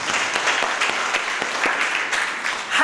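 An audience applauds an elder at a church young couples' finance seminar, dense sustained clapping from many hands nearby, swelling briefly near the end.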